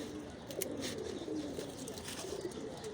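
A female military pigeon with red markings coos close by, a soft, low, rolling coo repeated through the moment against quiet room noise.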